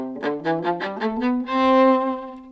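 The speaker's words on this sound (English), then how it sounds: "we can play off the string" A bowed string instrument played off the string, producing a series of short, bouncing, separated notes that step upward before ending on a longer sustained tone, close and unaccompanied.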